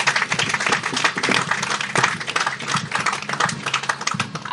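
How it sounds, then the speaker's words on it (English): Audience applause welcoming an honoree at a formal award ceremony, dense and sustained clapping across the whole stretch at steady loudness, with no speech over it. "Please welcome him with a round of applause."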